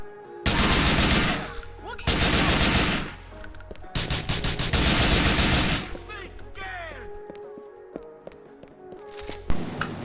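Long bursts of rapid automatic AK rifle fire from the video game GTA 4, loud and close, with brief gaps between volleys and scattered clicks and clatter toward the end.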